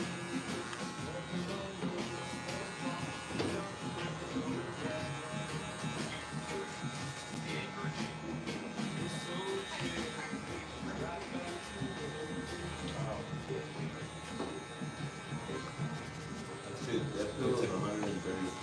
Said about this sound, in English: kind of use the top of your clipper, it'll kind of mess the ends up a little bit